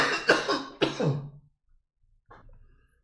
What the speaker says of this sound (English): Excuse me for all this coughing.